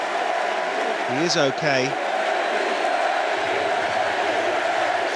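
Crowd at a strongman event roaring steadily for Eddie Hall, a continuous wash of cheering and shouts with a voice briefly speaking over it.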